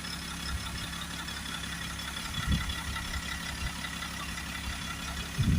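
BMW 525D diesel engine idling during blocked particulate filter cleaning, a steady low rumble with a constant hum throughout, plus a few faint knocks nearby.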